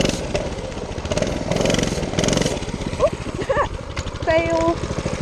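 A mini bike engine drones and sputters while being ridden through water, a rough, rapidly pulsing motor close by, with a voice speaking briefly over it.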